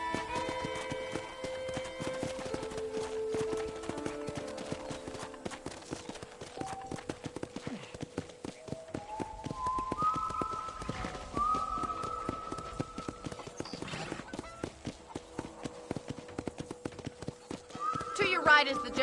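Hooves clip-clop in a fast steady rhythm over video game music, with a horse neighing near the end and people talking over it.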